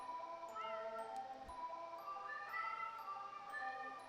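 A cat meows in the video game Tokyo Dark, giving several short, clear mews spread across a few seconds over a soft, steady background of music.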